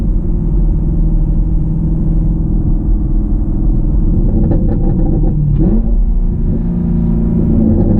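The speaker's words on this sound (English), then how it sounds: "I'll give it a good clutch kick roll" A 2020 Camaro SS 1LE rumbles loudly from inside the cabin, its V8 surging as the clutch is kicked, with a brief burst of engine roar and tire noise before the drone settles again.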